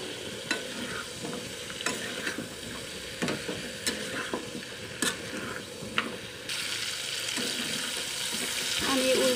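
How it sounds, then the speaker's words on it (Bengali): Chicken and potato pieces fry in a pan, a continuous sizzle under repeated scraping and clanks of a spatula turning the meat, close by with no voices. "আমি উল্টায় পাল্টায় মাংসটা ভেজে নিলাম"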